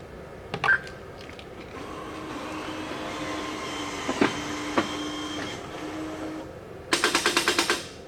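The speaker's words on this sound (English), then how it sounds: "what you've now heard is the cassettes are actually being unlocked" Inside an NMD50 cash dispenser, the cassettes unlock with a sequence of mechanical clicks and a low motor whir, ending in a rapid burst of sharp, evenly spaced clacks; the sounds are close and fairly quiet.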